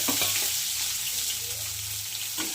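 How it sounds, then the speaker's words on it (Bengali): Chopped tomato, green chili and onion sizzling in hot oil for a spicy bhola fish curry: a dense, loud, continuous frying hiss close by, with a few faint stirring clicks. "টমেটো কুচি কাঁচা লঙ্কা কুচি আর পেঁয়াজ কুচি দিয়ে আমি তেলটাই দিয়ে দেবো সব একসাথে"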